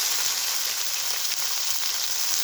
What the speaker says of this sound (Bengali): এই মশলাটাকে খুব ভালো করে একটু সময় নিয়ে আমি ভেজে নেব